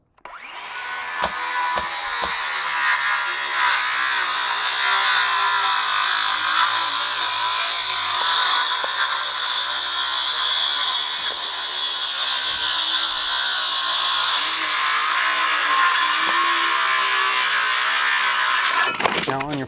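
A saw rips through a bunk of wooden framing studs in one long, loud, steady cut lasting nearly twenty seconds, its whining blade close and continuous with a brief clatter at the end.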